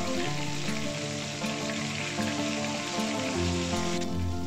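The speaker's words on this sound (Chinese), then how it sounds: "将猪肉下锅，用中小火炸3分钟，然后翻面再转大火继续炸2分钟。" Pork deep frying in oil makes a dense, continuous sizzle and crackle, steady and close throughout with no talking.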